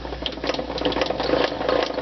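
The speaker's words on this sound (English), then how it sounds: "cranking this thing all the way up to the top, can't close this bottom thing here unless you crank it all the way up" Rapid mechanical clicking and whirring as a wood planer's height adjustment is cranked all the way up to the top, a steady close rattle with no talking.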